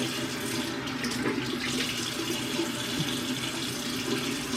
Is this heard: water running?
yes